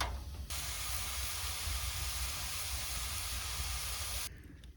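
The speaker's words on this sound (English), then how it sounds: "It's starting to sizzle." Corn on a barbecue fired with fatwood gives a steady, fine hiss that starts abruptly, holds for about four seconds, then drops away, close and moderately quiet with no talk.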